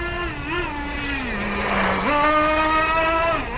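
Nitro engine of an XTM Accelerator RC stadium truck buzzing at high pitch, its note rising and dipping with light throttle blips, steady and close with no talk.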